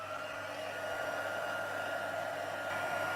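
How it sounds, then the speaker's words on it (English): A handheld heat tool blows hot air steadily over cardstock, a constant close whooshing roar with a faint whine that holds level throughout. "we're going to just run the heat tool over it really quickly"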